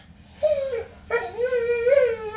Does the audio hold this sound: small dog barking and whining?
yes